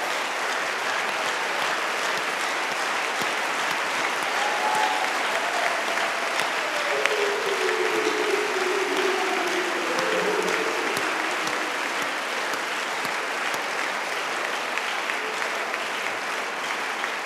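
A church congregation applauds the Lord in sustained, dense clapping that fills the room at steady volume for the whole stretch, with faint voices underneath.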